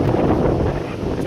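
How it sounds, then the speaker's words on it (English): Strong wind buffets the microphone at an exposed coastal campsite on Ussher Point, Cape York, a steady, loud broadband roar and rumble that fills the whole short moment without letting up. "Bloody windy here"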